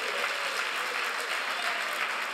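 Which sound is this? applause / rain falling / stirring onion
applause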